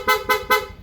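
A PIA horn on a Honda Beat FI V2 scooter blares three quick, loud, evenly spaced toots in rapid mode, close and alone.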